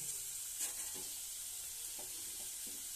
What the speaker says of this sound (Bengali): এতে অল্প জল দিয়ে এবার নেড়ে নিচ্ছি